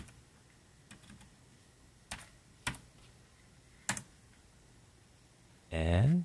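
A handful of separate key taps on a Logitech K600 wireless keyboard, spaced irregularly and fairly crisp, with a louder burst of other sound at the very end.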